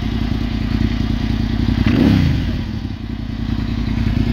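A 2005 Suzuki SV650N motorcycle with a Devil exhaust idles with a steady, lumpy exhaust burble, briefly swelling in the middle before settling back.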